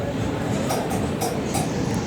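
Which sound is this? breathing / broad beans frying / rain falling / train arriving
train arriving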